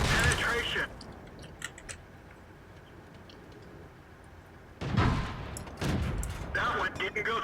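Tank cannons fire and shells ricochet off armor in the World of Tanks video game. Two loud bursts of shots and impacts are separated by a quieter stretch of low rumble, with faint voices in the background.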